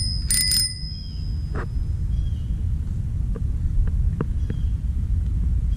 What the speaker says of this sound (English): and even has a bell.